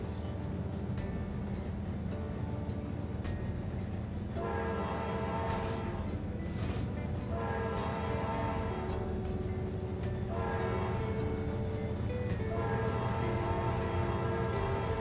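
Automatic train horn in the Trainz 2022 railway simulator, sounding in several long, loud sustained blasts over a constant rumble of a moving train, with no talking.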